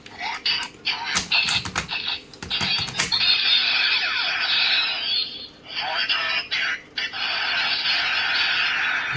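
A DX Kabuto Zecter toy belt blares its Rider Kick effect through a small speaker: sharp clicks and crackling bursts, then a harsh buzzing, distorted synthetic blast that cuts off and returns.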